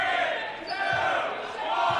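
A crowd at a girls' high school basketball game between Haddam-Killingworth and Valley Regional roars steadily, trying to rattle the Warriors, a sustained loud wall of voices with faint thuds underneath.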